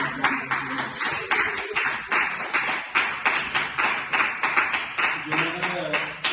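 A church congregation at a Sunday worship service claps in a steady, rhythmic beat to acclaim Jesus Christ. Many hands sound together, fairly close, and voices sing and cheer along under the clapping.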